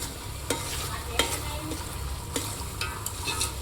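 Prawn curry with coriander and mint simmers in a pot until the oil rises, a steady soft sizzle broken by several sharp spoon scrapes and clinks as it is stirred.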